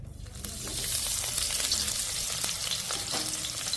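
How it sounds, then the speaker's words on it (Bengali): Chopped onions hit hot oil in a kadai, a steady close sizzle and crackle running the whole time with no voices. "তেলটা গরম হয়ে গেছে, এখন এখানে যে পেঁয়াজ কুচিগুলো নিয়েছিলাম এটা দিয়ে দিচ্ছি।"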